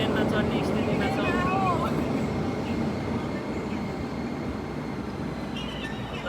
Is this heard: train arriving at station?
yes